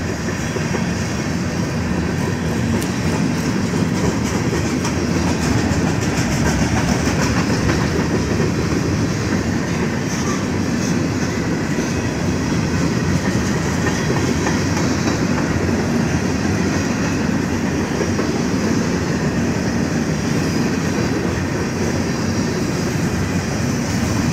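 A long BNSF freight train rumbles steadily past at close range in Effingham, Illinois, a loud continuous roar with faint clickety-clack of wheels and no voices.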